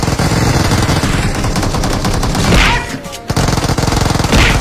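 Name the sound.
shotgun gunfire in PUBG video game meme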